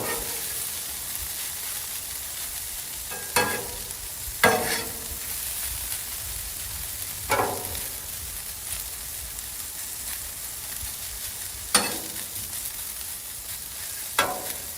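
Hash browns sizzling steadily on a hot Blackstone flat-top griddle, with a continuous loud fry hiss broken by a few sharp scrapes and clacks as a spatula flips and stirs them; no talking.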